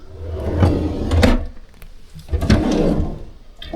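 A kitchen drawer slides open with a rumbling roll and then slides shut again, two close, loud movements with a short pause between.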